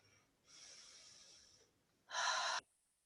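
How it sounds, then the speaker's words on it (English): Two close, breathy inhalations, the first long and gentle, the second a shorter, louder and sharper deep breath drawn in through the nose, in an otherwise quiet room. "just take a really deep breath"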